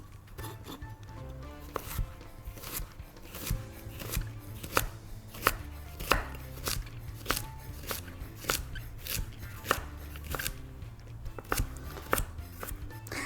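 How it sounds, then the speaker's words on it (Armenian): A knife finely chopping potatoes on a cutting board, a steady series of sharp close taps at an even rhythm, with quieter scraping between strokes. "Մանր կտրատում եմ։"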